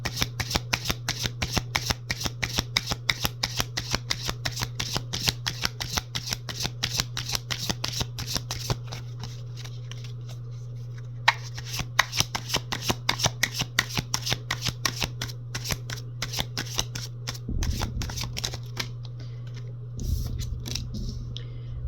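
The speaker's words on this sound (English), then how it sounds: "the cards have been cut and shuffled with your energies" Tarot cards are cut and shuffled by hand in rapid riffling bursts, close and crisp, with a steady low hum underneath and short pauses between shuffles.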